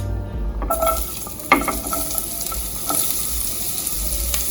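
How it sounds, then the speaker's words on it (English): Carrot sautéed in fish oil sizzles steadily in a pan after a loud burst as it goes in, with occasional spatula clacks and scrapes while it is stirred, close up and without talk. "I'm gonna saute the carrot first"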